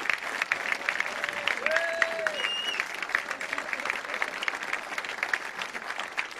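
A crowd at the launch of a 24-hour innovation event at an engineering school applauds steadily throughout, with a few sharp whistle-like tones rising above the continuous clapping.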